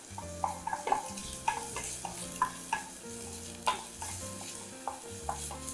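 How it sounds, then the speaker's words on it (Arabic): Onions and garlic frying in olive oil in a pan, with a low sizzle under repeated light scrapes and clinks of a utensil against the pan, set against faint tonal background music. "نقلي فيها البصل والثوم."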